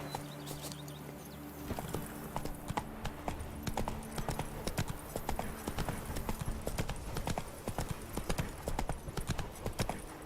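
The horse Roach gallops in a video game, with rapid, rhythmic hoofbeat clip-clops that stay steady and fairly close after a brief quieter start.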